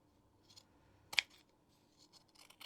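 Scissors trimming fabric edges of a handmade zip-top purse, one crisp close snip standing out among a few faint cuts and light handling rustle in a quiet room.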